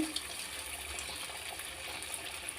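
Corn fritter batter (mokkajonna garelu) sizzles gently in hot oil, a faint, steady hissing fry with a few small pops, no voices.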